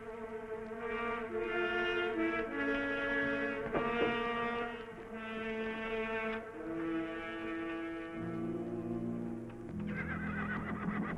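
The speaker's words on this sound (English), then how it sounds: "get the horse" A horse whinnies repeatedly, shrill drawn-out neighs rising and falling over several seconds, fairly close with faint background noise.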